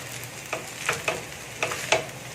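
Chow mein noodles sizzle in a hot pan as a utensil stirs and tosses them, making five or six short scraping clacks over a soft, steady frying hiss.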